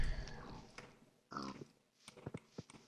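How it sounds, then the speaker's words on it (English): Pigs oink in the Minecraft video game, a few short nasal grunts heard close up in separate bursts with quiet gaps between them, no talking. "Pigs, I don't need pigs,"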